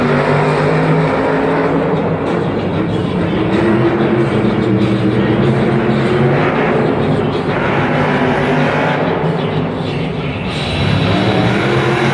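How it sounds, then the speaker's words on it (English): The Max D monster truck roars inside a Minneapolis arena at a Monster Jam show, a loud, continuous engine rumble that fills the whole stretch, with a public-address voice faintly mixed in. "Please welcome to the floor your 12-time champion and current two-wheel skills champion, Tom Meents in Max D"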